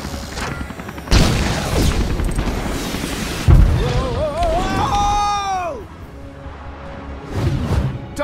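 In LEGO Marvel Super Heroes, an incoming ship opens fire: heavy booms and blasts erupt in bursts, with whistling, descending laser-like tones between the impacts.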